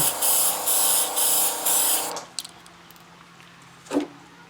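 Airbrush spraying paint side to side across a model car body's hood, a loud steady hiss in several even bursts for about two seconds, then near-quiet with a few small clicks and one short faint puff.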